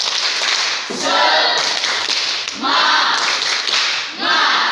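A classroom of Indonesian pupils performs a rhythmic spirit clap together, loud unison clapping in bursts with short pauses between phrases.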